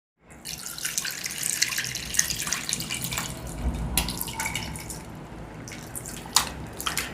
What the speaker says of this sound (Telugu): ఇప్పుడు చింతపండు పులుసును పోసుకుందాం